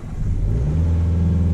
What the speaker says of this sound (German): kannst du das Auto einfach anmachen.